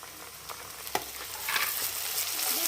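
A paste of onion, green chilli, garlic, ginger and cumin fries in a pan for a Rangpur-style egg curry, giving a steady close sizzle with a few sharp scraping stirs that grow a little louder toward the end.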